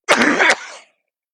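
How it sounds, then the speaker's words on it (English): A single harsh cough close to the mic, loud and abrupt, trailing off into silence. "Excuse me, I have to cough."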